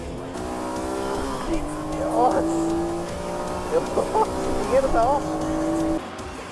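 Video game race cars, a Porsche GT2 and a Ferrari 360, rev hard with rising and falling engine tones and brief tire squeals, loud and close, with a voice talking over them.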